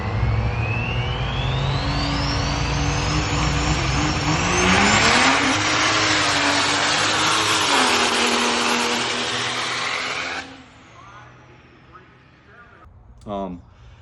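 Drag race car making about 2,300 horsepower roaring down the track at a callout event, engine pitch climbing steadily under a loud continuous blast before cutting off abruptly, followed by quieter rumble and a brief whine.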